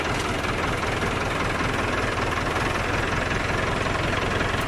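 A tractor engine idles steadily on a wheat farm at sowing time, a loud, close, low rumbling drone with a regular knocking pulse that runs without a break and has no talk over it.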